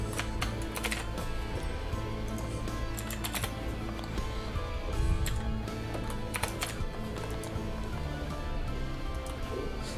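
Continuous close typing on a computer keyboard, with rapid clicks and occasional heavier key strikes over ten seconds and no talk.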